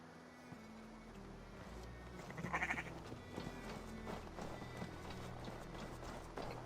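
A sheep bleats in Assassin's Creed Valhalla, one short wavering call partway through, set against steady in-game ambience and low music with faint hoof-like clopping.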